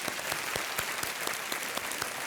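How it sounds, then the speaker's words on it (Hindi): Studio audience applause on a televised quiz show fills the short stretch, dense and steady, fairly quiet and heard alone. "एक बार फिर तालियों के साथ"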